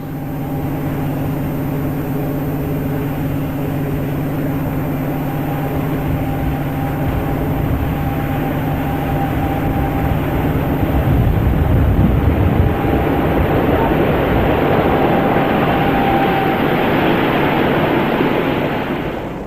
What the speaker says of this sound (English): 46026 with a train of containerised coal at Copmanthorpe in March 1982.